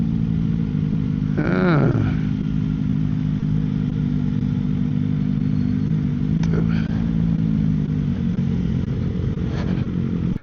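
Honda CBR 1000 sport motorcycle engine at a dealer demo day, a steady low drone with a rising rev sweep early on and brief passing swells later, with a short spoken remark over it.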